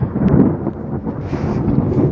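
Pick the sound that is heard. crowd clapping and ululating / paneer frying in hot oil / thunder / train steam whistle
thunder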